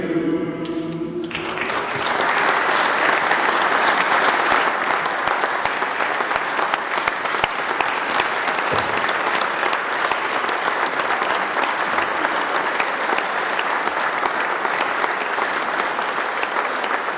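A roomful of people in a Senate chamber break into sustained, dense applause that starts abruptly after some brief voices and carries on loud and steady throughout.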